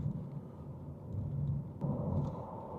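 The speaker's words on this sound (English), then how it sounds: "And a small bit of wind noise today, but it is a small bit windy." Low, rumbling wind and road noise fill the cabin of a Renault 5 electric car driving on a windy day, a steady muffled roar that swells and eases slightly, fairly quiet with no talking.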